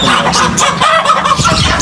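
A rooster clucks loudly and close, a run of throaty, rhythmic clucks with other fowl calling around it, no talking.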